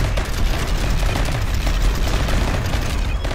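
Colonists in RimWorld keep up heavy gunfire, a dense, continuous rattle of shots at steady loudness throughout, with no voices over it.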